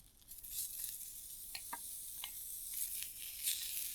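Onions sizzle in a hot frying pan beside a hamburger, a steady bright crackle with scattered pops and a few soft stirring scrapes, close and fairly quiet, with no voices.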